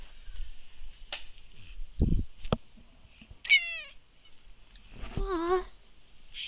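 A cat gives two short meows a couple of seconds apart, close and clear against a quiet room with scattered small knocks and rustles. No one speaks.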